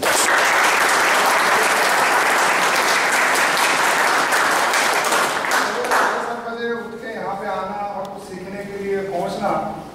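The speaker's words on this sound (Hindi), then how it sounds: "मैं चाहूँगा कि आप सब लोग अपने लिए एक बार जोरदार तालियां बजाइए।" Loud, dense applause from a business meeting audience fills the first six seconds, then thins out as a voice starts speaking over the last few scattered claps.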